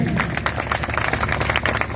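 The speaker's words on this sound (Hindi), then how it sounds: "तो आप इस शोपी के लिए और इस ओनर के लिए एक बार जोरदार ताली कर दिए" Seminar audience in Ranchi applauding, a dense, steady wash of many hands clapping throughout, fairly loud and continuous with a few voices mixed in.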